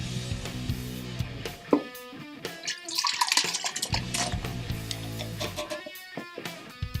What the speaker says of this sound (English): So I'm going to have D-Nice pour in our first can of fruit, pineapple and pineapple juice.